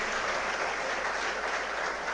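Steady, dense clapping from a seminar audience of rural students, many hands together at an even level from start to finish, with no talk on top.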